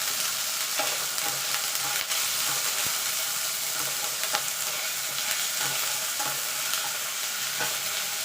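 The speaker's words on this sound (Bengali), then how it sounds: "এবার আদাটাকে একটুখানি নাড়াচাড়া করে নেব" Ginger paste sizzles and fries in a pan while being stirred, a steady crackling hiss with soft scraping strokes of the spatula recurring throughout, close and moderately quiet, no voices.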